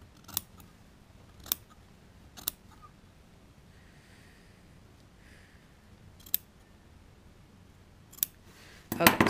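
Sewing scissors snipping a notch into jacket collar fabric, with a few sharp, isolated blade snips spaced seconds apart over a quiet room, ending in a louder rustle of handled cloth.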